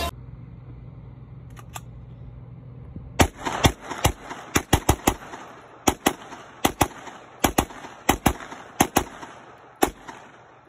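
Rapid string of loud, close gunshots from an AR pistol with a 4.5-inch barrel fed from a D60 drum magazine, fired outdoors at a range; sharp cracks in quick irregular succession after a quieter lead-in.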